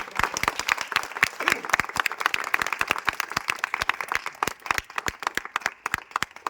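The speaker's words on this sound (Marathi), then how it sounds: "जोरात टाळ्या वाजून" A small group applauds at a trekking club gathering. The claps are brisk and clearly separated, close and lively, with faint voices underneath.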